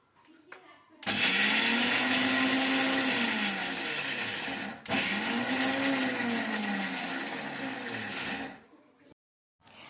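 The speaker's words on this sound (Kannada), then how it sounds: "ನಂತರ ನಾವು ಇದನ್ನು ಮಿಕ್ಸಿಗೆ ಹಾಕೋಣ" A small kitchen mixer-grinder jar coarsely grinding chana dal for masala vada, running in two long loud whirring bursts with a brief pause between, then switching off.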